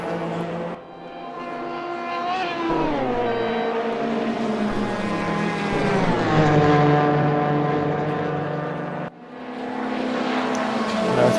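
An orange number 5 race car roars at Spa in a racing video game endurance race, its engine note rising and falling through gear changes, loud and continuous, with a brief dip near the end.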